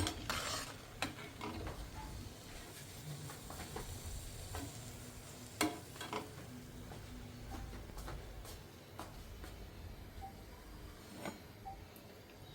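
Spinach puris cook in hot oil with a soft, low bubbling sizzle. Faint utensil clicks and taps come through now and then, and the whole scene stays quiet and close with no voices.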